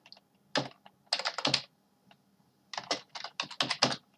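Someone types on a computer keyboard while working in AutoCAD 2020, producing clusters of fast, crisp, close key clicks in several bursts separated by brief silences.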